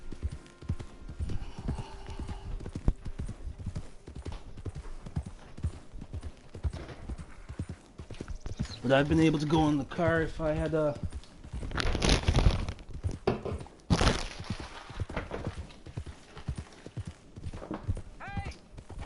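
Rhythmic hoofbeats from a ridden horse in Red Dead Redemption 2 run throughout, joined midway by a loud whinny and some crunching, with someone speaking briefly near the start.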